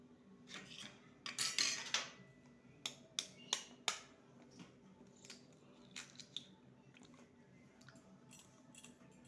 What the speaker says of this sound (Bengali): একটা ডিম ফেটিয়ে দেবো